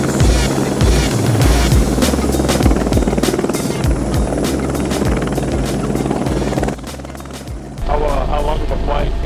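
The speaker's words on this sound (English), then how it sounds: "That helicopter." A loud, close helicopter drones steadily with rhythmic rotor thumps throughout, with voices talking over the engine noise near the end.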